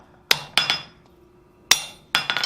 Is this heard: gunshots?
no